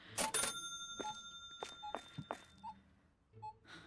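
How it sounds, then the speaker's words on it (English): Several short electronic beeps and chimes sound in the supermarket simulation game Supermarket Together, mixed with light clicks and thuds at a soft, close level. "Oh, that made a weird beeping sound just then."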